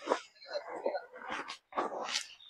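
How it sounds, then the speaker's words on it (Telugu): A puppy whimpers and yips near a dry waterfall in Mulugu district, Telangana, in short high whining bursts close by, with a brief pause before more. "కుక్క పిల్ల ఉంది అందులో వస్తుంది."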